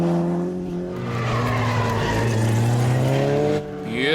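A race car at Kirkistown circuit understeers through a corner, tyres scrubbing and squealing over a loud, rising engine note, with a second engine climbing in pitch near the end.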